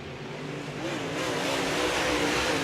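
Race cars in a 10-lap heat race roar around the track, engine noise swelling louder as a car powers by on the outside, a dense continuous rumble with no clear pauses.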